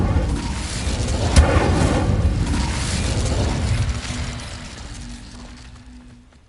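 An Incendio fire spell cast in the Hogwarts Legacy video game on PlayStation 5: a sharp pop followed by a sustained, loud fiery roar with rumbling bursts that gradually fades over several seconds.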